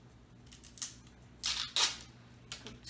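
Adhesive tape being pulled off a roll beside a film canister, a few short ripping bursts, the two loudest near the middle, close and fairly quiet against a faint hum.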